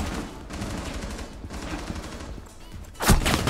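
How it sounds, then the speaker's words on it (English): Rapid gunfire in the video game Rainbow Six Siege: dense, continuous bursts of shots, ending in one loud, close blast. "That was a good shot."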